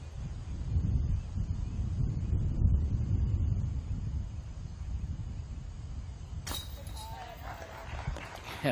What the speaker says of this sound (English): It is certainly windy around this pin, though.